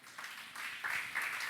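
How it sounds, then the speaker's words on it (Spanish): A church congregation clapping as an offering of applause to the Lord, a dense, continuous wash of many hands heard from across the room. "Dele una ofrenda de palmas al Señor."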